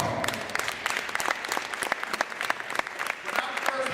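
A school audience at a motivational hip hop show gives a round of applause, a dense, lively burst of many hands clapping, close and sustained, with crowd noise mixed in.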